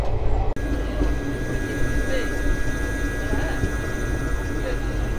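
The 18044 Bagha Jatin Express runs near Uluberia on the Panskura to Howrah line, a loud steady rumble with a faint high whine, heard from inside the train under a talking voice.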